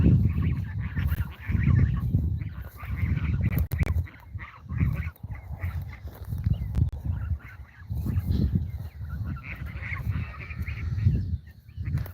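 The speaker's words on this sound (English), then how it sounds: "Follow the geese back to the pond." Geese honking repeatedly in irregular bursts as they are followed on foot back toward a pond, outdoors with steady background noise and no speech.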